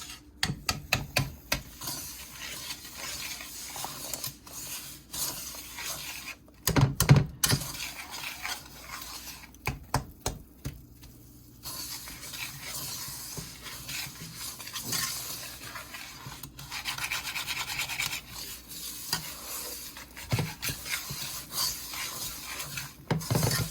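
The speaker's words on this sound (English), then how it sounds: "So you go continue stir it until your butter and sugar are incorporated together." Butter and sugar melting together in a pan for German chocolate frosting are stirred with repeated scraping and rubbing strokes against the pan, close and uneven, some sharp clacks among softer stretches, with no talking.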